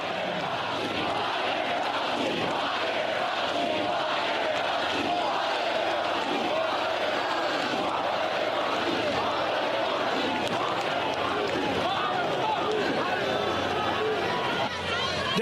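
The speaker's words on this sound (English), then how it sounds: "The crowd was chanting, "Fire Fauci."" Rally crowd in Florida chanting "Fire Fauci" at a Trump campaign event, a dense, continuous roar of many voices that stays steady and loud throughout with no single speaker standing out.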